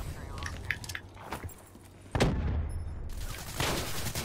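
Gunfire in the Call of Duty video game comes as sharp shots and bursts over a rumbling game background, with a player talking over the action.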